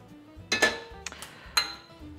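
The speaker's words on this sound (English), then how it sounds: "To do so, I have a medium saucepan." Medium metal saucepan set down and handled on a stovetop, giving a few close, bright metallic clanks and clinks at uneven intervals, with a quiet pause between them.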